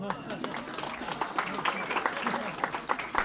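A dinner audience at a Republican honors dinner in Westerly gives a dense, sustained round of applause, broad and even, with voices murmuring underneath.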